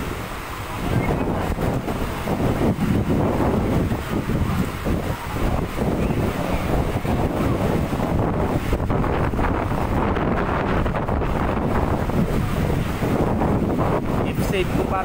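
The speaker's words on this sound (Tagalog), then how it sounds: "Ngayon naman tumas yung hangin." Strong typhoon wind gusting by the Marikina River, a continuous loud roar and buffeting across the microphone with rushing water noise, steady throughout.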